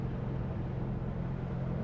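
A steady low engine drone and road rumble from a 1974 Plymouth Duster cruising at an even 50 mph, no talking.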